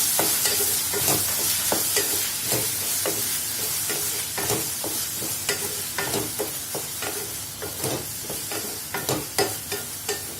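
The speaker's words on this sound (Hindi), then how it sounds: "बड़ा टमाटर ऐसे डालेंगे, इसे चलाएंगे" Tomato is stirred into okra masala frying in a pan: a constant sizzle cut by regular, close scraping strokes of a spatula that come faster toward the end, with no speech.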